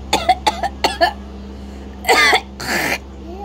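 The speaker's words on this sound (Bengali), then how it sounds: "কাশি হচ্ছে।" A series of short, sharp coughs in quick succession, followed by two longer, raspier coughs, close by against a low steady hum.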